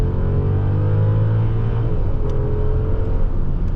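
A 2011 Audi A8 4.2 in sport mode accelerates with a smooth, steady engine drone rising in pitch, heard from inside the cabin with a low road rumble beneath.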